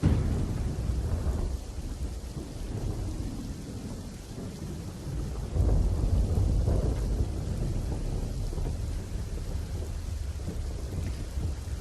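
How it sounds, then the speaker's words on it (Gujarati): Heavy rain pours down steadily during a night storm in Banaskantha, Gujarat, with deep rolling thunder rumbling underneath, loud and continuous with no voices. "ઉત્તર ગુજરાતમાં જોરદાર વરસાદ પણ વરસી રહ્યો છે"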